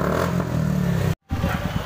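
Motorcycles rev loudly at the start of a bike rally held for a birthday celebration, a rough engine drone that cuts out for an instant, then resumes with pulsing throttle blips.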